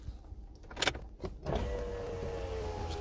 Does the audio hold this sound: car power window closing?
yes